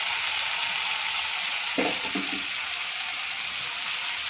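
Steady, close sizzling of vegetables sautéing in a hot pan for pulao, with a brief scraping stir partway through.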